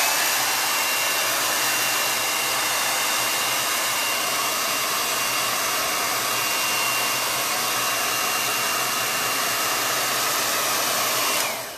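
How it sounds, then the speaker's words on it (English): Blow dryer running continuously at close range to dry chalk ink on a T-shirt, a loud, steady airy whir that holds unchanged for about twelve seconds before cutting off at the end. "I'm just going to dry this with the blow dryer again"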